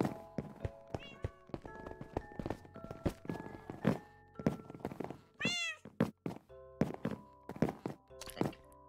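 A cat in the video game Catastrophic Pandamonium meows several times, rising and falling calls mixed with soft thumps and footstep-like taps, fairly close and with no speech.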